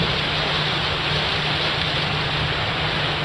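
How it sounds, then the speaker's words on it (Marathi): Heavy rain pours down in Mumbai, a loud, unbroken hiss of dense rainfall that holds steady throughout, with no voices heard over it. "मुंबईत पहाटेपासूनच पावसानं जोर धरलाय"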